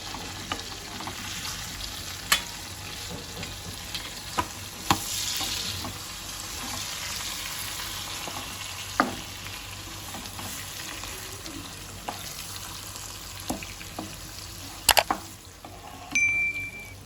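Gaboli, fish roe, stir-fried in an uncovered pan, giving a continuous low sizzle broken by occasional spatula clinks and a sharp metallic ding near the end, with no voices.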